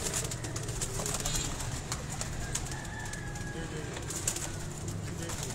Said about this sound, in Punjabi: ਇਹ ਉੱਤੋਂ ਕਬੂਤਰ ਹੈ, ਛੱਤ ਉੱਡਦੇ ਨੇ ਜੀ